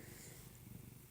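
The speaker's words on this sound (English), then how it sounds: "one of them is purring really loudly" A cat purrs steadily and close by, a low rumbling vibration that continues without pause.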